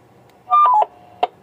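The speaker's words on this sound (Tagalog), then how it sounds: "Roger beep, ito yung Roger beep po natin." A Motorola GP338 Plus two-way radio sounds its roger beep. A short, clean electronic tone sequence rises and steps down, followed a moment later by a single brief blip against a quiet background.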